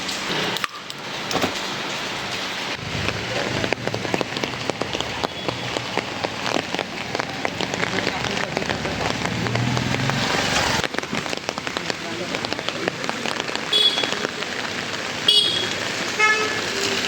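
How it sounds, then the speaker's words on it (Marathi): Rain falls steadily on a Pune street, a close, dense patter on surfaces and an umbrella, with passing cars and occasional vehicle horns toots in the background. "पुण्यात पाऊस आलेला आहे, त्याचा आनंद घेऊया."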